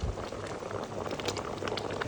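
Gooseberry jam boils in a pan, a dense close bubbling and popping that holds steady throughout with no voices.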